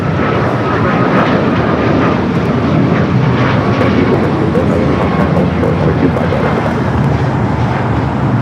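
Airliner taking off at Los Angeles LAX airport: a steady, loud broadband engine roar runs unbroken throughout, with faint radio chatter beneath it.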